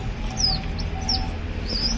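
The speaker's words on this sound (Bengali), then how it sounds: "কবুতর বাচ্চা।" Baby pigeons give three brief, high squeaky chirps at close range over a steady low background hum, with no talking.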